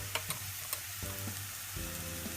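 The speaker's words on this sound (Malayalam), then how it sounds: "ആവശ്യത്തിന് ഉപ്പും ചേർത്ത് നന്നായിട്ടൊന്ന് വഴറ്റിയെടുക്കാം" Crushed garlic, ginger and green chili with pepper, garam masala and turmeric sizzle softly in a pan, with a few light stirring clicks and scrapes, quiet and close.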